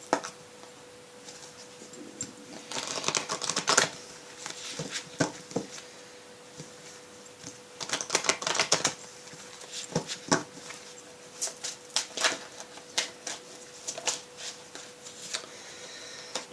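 Archangel oracle cards shuffled by hand in bursts of crisp riffling and soft slapping, with quiet pauses between handfuls, close and fairly faint.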